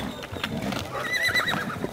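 Horses whinny and neigh at a horseback parade for an ejido anniversary in Llera, Tamaulipas, with a high drawn-out neigh rising over muffled hoof clops and crowd murmur, and people talk nearby.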